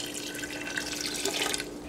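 Water pours steadily into a pot holding jasmine rice, a continuous splashing rush that stays fairly loud and even throughout.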